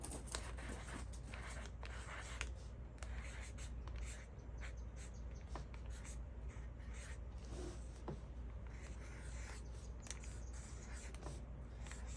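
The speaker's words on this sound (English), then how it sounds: "I'm just gonna write something in here" Pen or pencil writing by hand in a junk journal, a soft scratchy scribbling in short strokes under a steady low room hum, with faint paper rustles and no talking.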